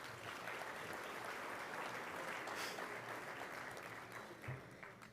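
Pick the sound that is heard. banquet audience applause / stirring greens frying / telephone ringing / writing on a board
banquet audience applause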